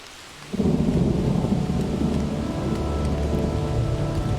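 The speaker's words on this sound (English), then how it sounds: "Now I'm going to play our thunderstorm along with the music" Thunderstorm ambience sound effect: a deep rolling thunder rumble and dense rain kick in after a brief quiet start, then hold loud and steady, blended with a faint sustained musical bed.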